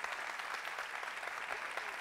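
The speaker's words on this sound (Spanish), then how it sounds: "Fuerte el aplauso," A television studio audience claps to welcome a guest onto a talk show, a steady, even wash of many hands at moderate distance with no voices over it.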